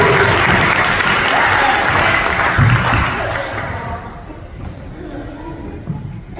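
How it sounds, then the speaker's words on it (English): An audience applauds for Erica at a college prep scholarship awards ceremony, loud clapping and crowd chatter tapering off into murmured talk toward the end. "Everybody give Erica another round of applause"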